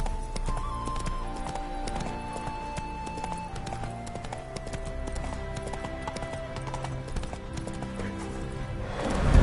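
Roach, the horse in The Witcher 3, is spooked by ghosts: a steady patter of hooves runs throughout, with a whinny and a music score beneath, and the sound swells loudly at the very end.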